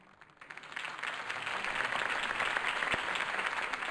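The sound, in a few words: applause after Harvey Dent speech in Batman Telltale video game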